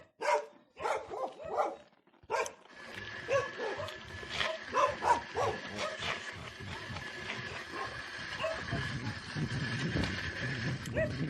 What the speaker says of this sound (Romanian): Ce sunt niște câini.